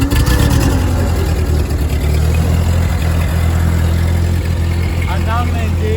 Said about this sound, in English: And I'm gonna start the tractor in neutral.